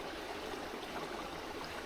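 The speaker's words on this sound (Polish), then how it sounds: "posłuchać szumu strumyka" Steady murmur of a mountain stream beside a campsite, a continuous soft rushing wash of water with no breaks, heard close and alone without voices.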